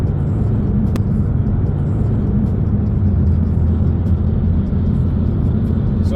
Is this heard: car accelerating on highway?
yes